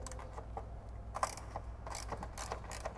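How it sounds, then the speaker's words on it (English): A ratchet with a 10 mm socket loosens a bolt near the strut tower of a Ford Mustang S550, giving quick, faint, mechanical clicking bursts in short runs with no talking. "you want to grab a 10 millimeter socket and loosen up"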